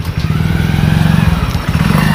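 A motorcycle engine runs loud and close with a steady, throbbing low pulse and rough mechanical clatter, holding a constant idle-like rhythm for about two seconds with no speech.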